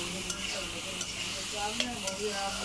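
Eggplant frying with salt in a pan, stirred steadily: a continuous close sizzle with a few sharp scrapes of the utensil against the pan, no talking.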